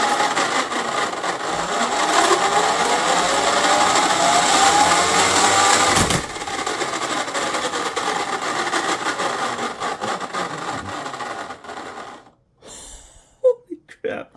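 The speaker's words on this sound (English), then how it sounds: "Let's start at level 1 and see if this impact wrench is able to turn this." An impact wrench spins a 3D printed high-ratio gearbox with a loud, sustained whirring drone that rises in pitch, then cuts off into a few short clattering bursts; a person gasps and talks over it.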